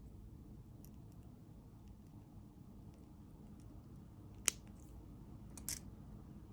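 One sharp snip as excess beading wire is cut for a pearl and crystal lariat necklace, close and brief, then a second softer click in an otherwise quiet room.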